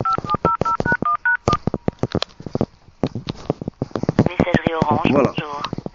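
A rapid series of telephone keypad tones beeps at the start, followed by someone talking over the line with faint background noise.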